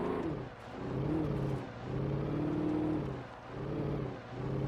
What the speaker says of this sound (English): it makes normal car sounds